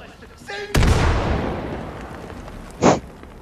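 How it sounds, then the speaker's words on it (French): A bomb explosion in the video game Far Cry 5: a short tonal chirp, then a sudden loud blast with a long decaying rumble, followed by a brief sharp burst near the end. "C'est une bombe!"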